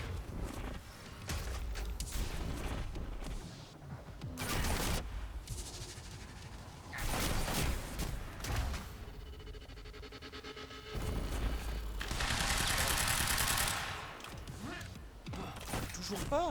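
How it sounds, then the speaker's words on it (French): Video game gunfire in Quantum Break: several loud bursts of shots and impacts scattered through a noisy action scene, with someone talking over much of it. "avec toutes les balles que je te tire sur l'arrière."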